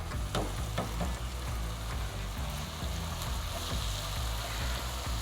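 Onions for a beef roast fry in a pan with a busy crackling sizzle, broken by scattered scrapes and taps of stirring, close up and without speech.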